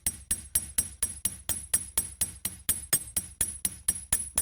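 Small hammer striking the ends of copper wire, a steady series of about seventeen sharp metallic taps at an even rhythm, close and clear with no talking.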